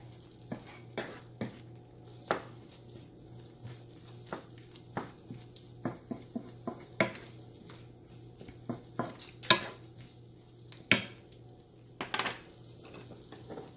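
A spoon stirs venison meat fry in a pan with Kashmiri chili powder and meat masala, giving repeated scraping clinks and scrapes over a soft steady sizzle, close and alone with no talk.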